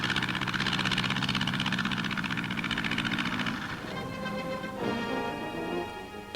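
A wingless plane with a 130 horsepower motor drones steadily as it takes off, the engine's buzzing roar holding loud and close before its pitch shifts and smooths.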